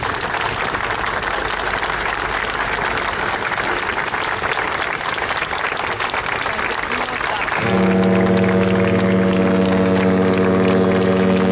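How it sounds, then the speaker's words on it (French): Dense, loud applause from a crowd at a street-naming ceremony in Bastia fills the first seven seconds, then gives way to a steady droning tonal hum. "je vous demande d'applaudir fermement et fortement Pascal-Lotte"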